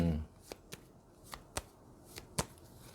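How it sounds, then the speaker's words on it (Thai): Tarot cards being shuffled and drawn during a reading, heard as a handful of sharp, separate card snaps and flicks spaced across a few seconds, fairly faint against a quiet room, with a brief voice at the very start. "ขอไพ่ขยายหน่อยนะครับ"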